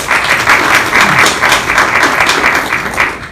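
A crowd at a volunteer appreciation ceremony applauding steadily, loud and close, with continuous clapping throughout.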